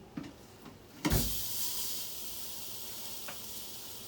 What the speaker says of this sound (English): dump this in the Instant Pot, and we're gonna brown it on all sides